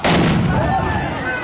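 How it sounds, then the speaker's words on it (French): A single loud, close gunshot cracks out and rings with a long fading echo, and no voices are heard. "Ils ont bien tiré."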